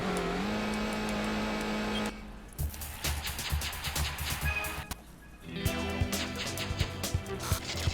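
A Toyota AE86 Corolla GT races in Gran Turismo on the PlayStation, its engine revving with shifting pitch, briefly dropping before climbing again, with steady race-game engine noise throughout.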